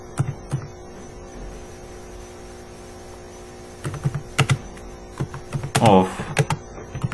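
Scattered keystrokes on a computer keyboard tap out C++ code over a steady electrical hum, with a quiet gap before a denser burst of typing and a short scrape near the end.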